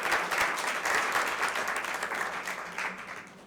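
An audience at an outdoor twentieth-anniversary celebration in a park in Morelos claps together in a dense, steady round of applause that slowly fades, with no talking.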